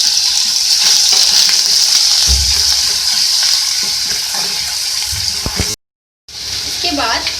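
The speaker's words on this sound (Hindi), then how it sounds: "इसको हम हल्का सा फ्राई कर लेंगे।" Ginger garlic paste fries in hot oil, a loud, close, continuous hiss and crackle with occasional stirring, cut by a brief silent gap before the sizzle resumes.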